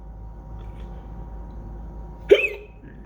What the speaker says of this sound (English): I thought I had to yawn and then I hiccup again.